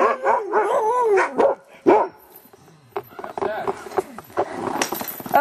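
Several dogs in an outdoor dog yard bark, yip and howl in bursts, loud and close, while a person talks among them.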